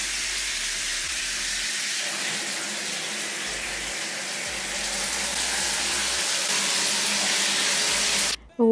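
Steady broadband shower water runs continuously throughout, a dense hiss of spray with no voices, cutting off abruptly just before the end.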